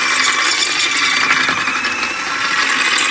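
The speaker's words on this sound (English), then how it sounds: "So a little tip for getting these out is to get a drill bit, drill through" Drill bit boring through the rubber bushing of a car wishbone, a close, loud, steady grinding and rattling whir that lasts the whole three seconds with no voice over it.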